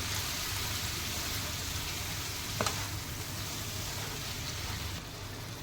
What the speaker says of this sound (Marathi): कोळंबी व्यवस्थित परतून घ्यायची